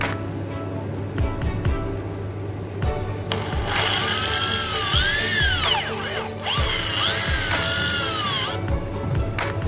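A power drill whines steadily through the metal frame of a three-door display freezer, drilling rivet holes, its pitch rising and bending in long sweeps, with a constant mechanical hum underneath.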